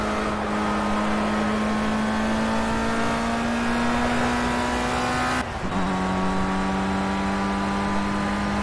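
Race car engine in the video game Project Cars, a loud sustained drone steadily rising in pitch, then a sharp gear shift drops the note before it climbs again; the car's rear axle is damaged.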